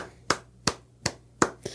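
A person claps their hands four or five times, each clap sharp, close and evenly spaced, with no talking.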